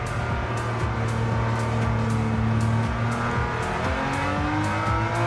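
A Jaguar E-type's engine in the racing video game Gran Turismo 7 drones loudly and steadily, pitch climbing through gears with a shift near the end, alone without talk.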